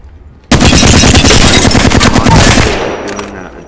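Apex Legends weapon fire at a shooting range bursts out as a loud, sustained stream of rapid automatic shots for about two seconds, then tails off into a few scattered clicks and echoes.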